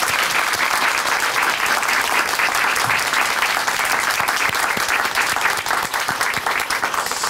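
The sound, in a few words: audience applauding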